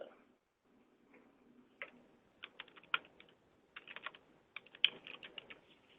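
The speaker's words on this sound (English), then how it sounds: "I hear you typing" Computer keyboard typing from a participant on a virtual legal education call, heard as faint, irregular bursts of key clicks with short pauses between, fairly close and alone without talk.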